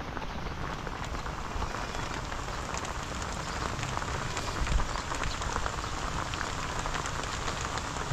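Steady, dense rain falls on a surface during a wet day, a continuous hiss of drops that stays even and fairly loud throughout with no talking.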